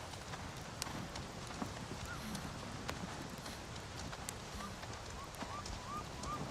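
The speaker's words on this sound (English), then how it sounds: "Dire horse riding is art." Hooves of a dire horse clip-clop steadily while it is ridden in the Avatar video game, a soft continuous rhythmic patter of hoof falls at moderate distance with faint ambient background.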